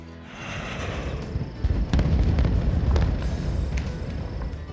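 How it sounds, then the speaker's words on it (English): Fireworks bursting high above the Fayette Power Project in LaGrange, a continuous rumble of booms and crackles with several sharper bangs around the middle, fairly loud and without speech. "video of the fireworks display high above the Fayette Power Project in LaGrange"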